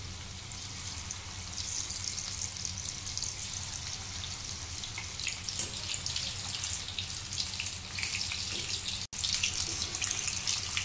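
Chicken 65 pieces deep frying in hot oil give a steady, dense crackling hiss that runs unbroken at moderate loudness, with a brief dropout near the end and no voices.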